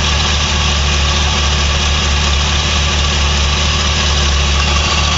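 A 1979 Ford Bronco engine idling with a miss, a loud, close, steady rumble with an uneven low-end pulse running the whole time.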